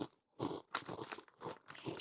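Someone bites and chews Takis Volcano rolled tortilla chips, heavily seasoned, giving several loud, close, dry crunches in quick bursts with short pauses between, no talking.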